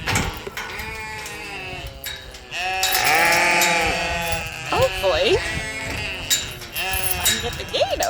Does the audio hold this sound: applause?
no